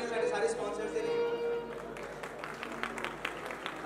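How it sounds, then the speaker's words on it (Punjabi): Audience at a music academy stage show claps for the sponsors, a spread of rapid hand claps building across the room beneath an announcer's amplified voice and crowd chatter. "ਸੋ ਜ਼ੋਰਦਾਰ ਤਾੜੀਆਂ ਸਾਡੇ ਸਾਰੇ ਸਪਾਂਸਰਸ ਦੇ ਲਈ"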